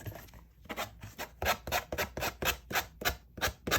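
Sandpaper rubbed back and forth over a gratitude journal kit, about a dozen rhythmic rasping strokes, close and even, with no voices.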